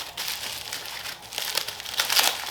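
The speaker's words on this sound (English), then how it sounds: "It's the bubble wrap that I have the hardest time with." Taped bubble wrap packaging is pulled open and unwrapped close by, giving a continuous crinkling and crackling rustle that grows louder toward the end, with no speech.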